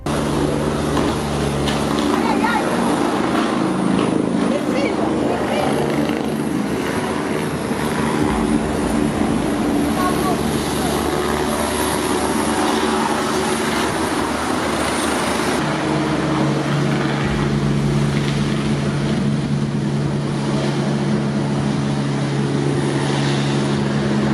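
A helicopter hovering during a rope rescue: a loud, steady rotor and engine drone fills the scene without pause, a heavy whirring roar close overhead.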